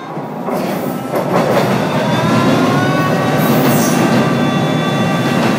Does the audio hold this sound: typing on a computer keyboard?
no